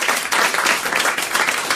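An audience on a French radio-style show breaks into loud, dense applause, a burst of close clapping lasting under two seconds with no voices over it.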